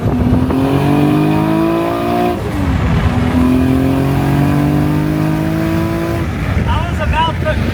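A Nissan Skyline R33 GT-R sedan's RB engine revs hard on a dyno, loud rising wails climbing in pitch, dropping briefly, then pulling up again before easing off near the end.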